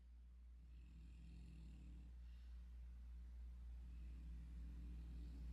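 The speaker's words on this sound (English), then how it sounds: "Snoring." A pet snores faintly nearby in a quiet room, with slow, soft rumbling breaths repeating under a steady low hum.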